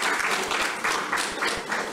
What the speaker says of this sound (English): Let's give Nana a big round of applause.